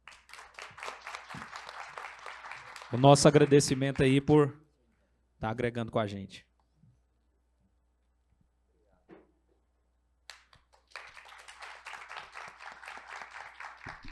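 An audience claps at an award presentation during a condominium-law event, with a stretch of applause, then someone speaking over a quiet pause, then fresh clapping rising again near the end.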